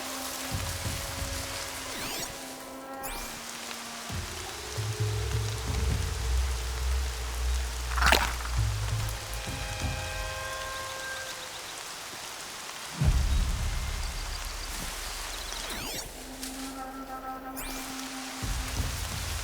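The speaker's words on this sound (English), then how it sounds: "Everything's sharp and moving in the rain." Steady rain falls in the video game Horizon, a constant broad hiss of downpour with deeper rumbling swells like distant thunder rolling in and out, and no voices.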